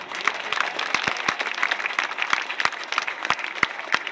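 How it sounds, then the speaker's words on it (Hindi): Audience applause at a Jamul Srijan Diwas 2025 public rally in Bhilai, Chhattisgarh: a steady, dense, moderately loud patter of many hands with a few sharper claps standing out. "ताली कमजोर है यार।"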